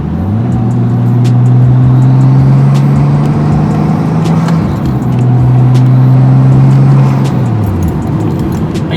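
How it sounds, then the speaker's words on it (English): A Nissan Skyline R33 fitted with an air intake adapter pulls hard in third gear, its engine note climbing steadily in two long loud surges with a brief drop between them, heard close from inside the car without talk. "hopefully you guys can hear the car doing the pull"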